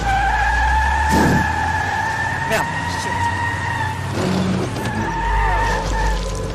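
In The Wolf Among Us, a car skids with long squealing tire tones and engine rumble, loud and sustained across several seconds, while someone talks over it and swears briefly.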